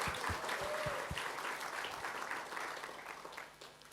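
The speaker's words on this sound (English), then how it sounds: "So a big round of applause to each and every one of you for being here." A large seminar audience breaks into a sustained round of applause, dense and loud at first, then thinning and fading toward the end, with no talk over it.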